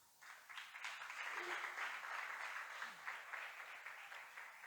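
A church congregation applauds together, a steady wash of clapping that swells in and holds at moderate level, with faint voices underneath.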